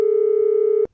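A steady, loud telephone busy tone holds a single pitch for nearly a second, then cuts off abruptly with a click.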